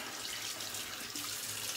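Cold water runs steadily from a tap into a sink for a post-shave rinse, a close, continuous splashing flow with no speech.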